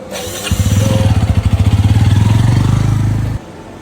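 A motorcycle engine starts and idles close by with a loud, rapid, even putter, then cuts off abruptly.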